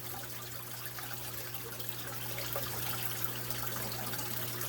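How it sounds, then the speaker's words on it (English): Water pours and splashes steadily as a container is lifted out of a brackish aquarium, a continuous close wash of trickling and gushing without any speech. "roll the container over, and then just lift it out and basically leave the water behind"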